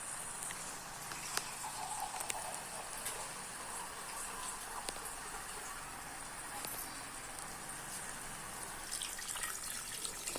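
Steady running water pours continuously into a cooking pan of spiced silver fish curry, a broad hissing flow with faint clinks, no talking.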